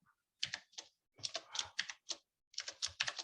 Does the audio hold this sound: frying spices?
no